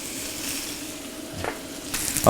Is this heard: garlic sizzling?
yes